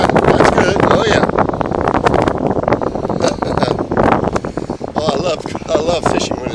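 Strong wind of about 14.5 mph buffets the microphone at a lake shore during fishing, a loud rough rush under continuous talk.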